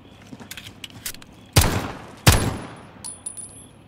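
Gunfire in Call of Duty: Modern Warfare gameplay, two sharp, loud shots about a second apart, each with a booming tail, over quiet background rattle and lighter clicks.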